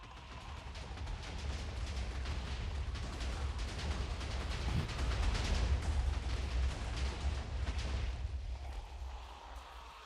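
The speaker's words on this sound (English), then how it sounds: "Moments later, we hear explosions coming from the distance." Distant explosions in a post-apocalyptic survival video game, a continuous rumbling roar of booms with a heavy low-end wash that swells slightly midway and fades near the end, with no voices over it.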